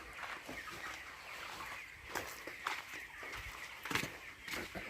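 Hens cluck steadily at a hen farm in Cuttack, Odisha, a continuous close flock chatter with scattered sharper clucks and squawks over a low background rumble.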